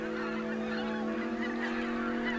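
A flock of geese honking continuously, many overlapping calls forming a dense, steady chorus without pause.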